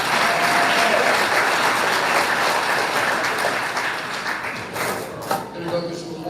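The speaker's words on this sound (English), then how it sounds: "So give these guys a round of applause" Loud sustained applause from a crowd at a high school spring sports banquet, dense clapping that fills the room and gradually thins toward the end, with a voice over it.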